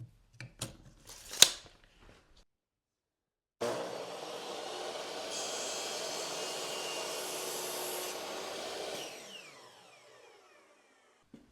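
A saw makes a miter cut through wooden picture frame molding: a few sharp clicks and taps, a pause, then a steady rasping, whirring cut for about five seconds that winds down to quiet.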